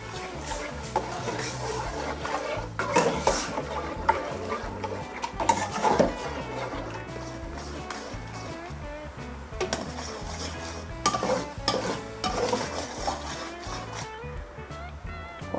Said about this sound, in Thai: เคี่ยวให้หัวกะทิงวดเล็กน้อยนะคะ